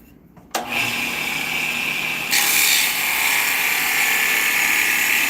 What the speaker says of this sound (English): what I'm going to do is called shear scraping, where you take the bowl gouge right up close and it just slices off a little bit